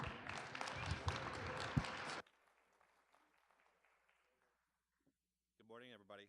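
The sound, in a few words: audience applause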